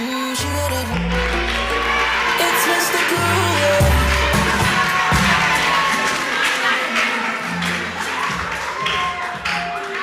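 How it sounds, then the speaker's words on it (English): A studio audience at a TV talent show cheers and claps for a contestant, a loud, dense burst of applause and whoops with thumping beats underneath, lasting throughout. "a round of applause for Leo."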